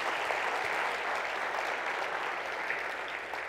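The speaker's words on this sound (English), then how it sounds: "I'd like to just ask for a big round of applause for all the speakers for today" A conference audience gives a steady round of applause for the day's speakers, dense clapping from many hands that holds evenly for a few seconds.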